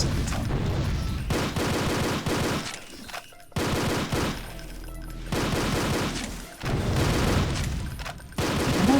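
Rapid gunfire from a first-person shooter, fired at imps in a Doom 2 custom map, rolls through in dense bursts broken by short pauses, loud and continuous across most of the stretch.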